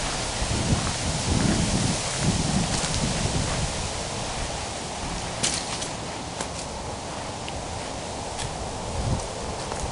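Steady evening wind roars outdoors at a homestead in a constant broadband rush, with gusty low rumble and occasional rustling crackles throughout.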